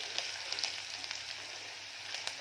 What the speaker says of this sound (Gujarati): તો આપણે ડુંગળીને પણ આપણે સહેજ બ્રાઉન રંગની થશે ત્યાં લગીને આપણે એને સાતળશું